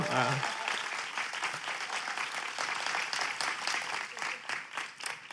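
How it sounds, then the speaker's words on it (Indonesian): A church congregation in an Indonesian Christian service applauds with dense, sustained clapping that holds steady from start to end, with some voices mixed in. "Jadi kalau di sini Anda tepuk tangan boleh lebih keras dong"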